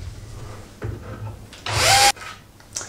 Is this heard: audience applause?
no